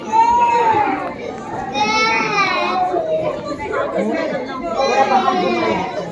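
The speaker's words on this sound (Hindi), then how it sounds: "जो बच्चे रो रहे हैं उनको बाहर ले जाएं" Young children crying and chattering among an audience at a Jain Kshamavani program, a continuous loud mix of wailing and noisy crowd voices with no pauses.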